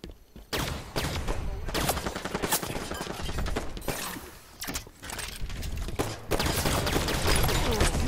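Rapid bursts of Halo 5: Guardians multiplayer gunfire, dense volleys of shots broken by a few short pauses, loud and close throughout.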